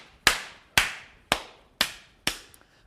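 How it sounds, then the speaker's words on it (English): A hammer striking a coconut wrapped in a dish towel, five sharp, evenly spaced blows about half a second apart, close and loud with quick decays. "Take my hammer, give it a few smashes, crack the coconut through the dish towel"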